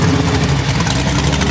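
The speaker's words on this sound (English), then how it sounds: "I think I lit off the two-step button too soon because the RPM spiked to like 5 or 6." A drag car engine held on a two-step launch limiter gives a loud, close, steady pulsing rumble, a brief unbroken burst with no voices.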